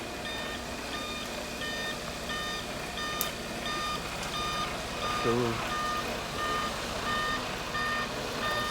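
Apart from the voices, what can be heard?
concrete truck reversing beeps on arrival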